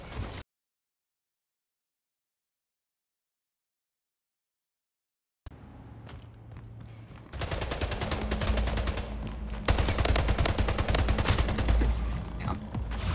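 Gunfire from the video game Splitgate starts after several seconds of silence, first sparse, then building into dense, loud, sustained rapid bursts that continue to the end.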